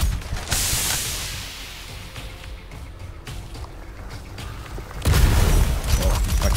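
A rocket launcher fires and explodes in the video game Scathe: a sharp, loud blast opens, a quieter rumbling stretch follows, and a second heavy boom with crackling debris bursts near the end.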